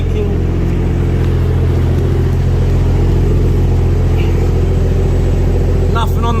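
A Barra-swapped Toyota JZX100 idles loudly and steadily up close, its deep, even engine rumble running throughout with a voice briefly audible over it.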